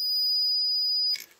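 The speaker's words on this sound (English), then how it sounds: "Okay, you hear it beep?" A continuity tester in a copper, brass, aluminum and steel battery cell test gives one steady, clear high beep for about a second, then cuts off into a brief faint rustle.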